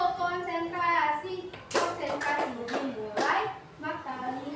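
A teacher's voice leads a fifth-grade elementary class in a concentration clapping chant, with sharp rhythmic hand claps breaking in between the spoken lines.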